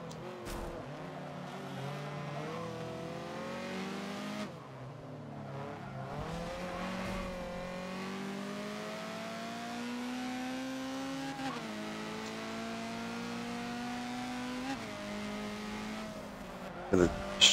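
Honda CRX race car engine at Suzuka West in Forza, holding a steady, rising drone through the gears with brief dips at shifts, sustained and fairly close throughout, with a voice talking over it.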